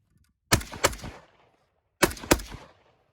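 Two quick pairs of sharp gunshots crack out about a second and a half apart, each shot with a short echoing tail, in otherwise quiet surroundings.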